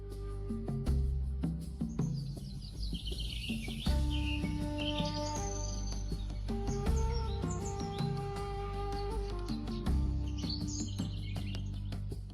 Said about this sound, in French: Les oiseaux perchés sur leur dos s'envolent brusquement, pressentant la violence imminente.